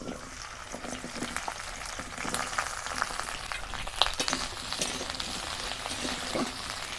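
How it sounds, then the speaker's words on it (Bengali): Sliced okra frying in hot oil in a wok, a steady close sizzle with dense crackling pops and spatters throughout, no voices. "ভেন্ডিগুলোকে প্রথমে তেলে একটু ভেজে নিচ্ছি"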